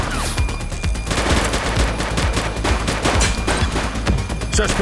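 Sustained gunfire in a police shootout in the video game The Precinct: loud, rapid bursts of overlapping shots rattle on without pause for several seconds.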